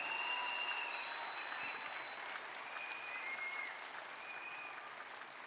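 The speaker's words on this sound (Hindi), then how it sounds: "एक बार जोरदार तालियां।" Audience at a marketing company event applauding an ambassador, sustained dense clapping from a crowd that fades slightly near the end, with no speech over it.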